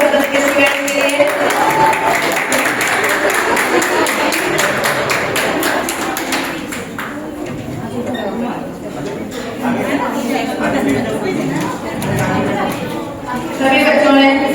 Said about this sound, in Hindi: एक बार जोरदार ताली होता है भारत शिक्षा सदन के स्टूडेंट के लिए